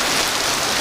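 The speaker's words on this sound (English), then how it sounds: "You see the cool rain." Rain pours steadily during a storm on a bikepacking hammock trip, a dense, even hiss of drops that stays loud and unbroken.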